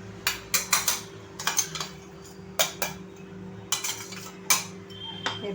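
Coarsely pounded masala chai spice powder is scraped out onto a plate, with a series of close metallic clinks and taps of a spoon against the container, irregular and quick.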